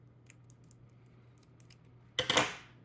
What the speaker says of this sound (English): Still struggling with the tape here.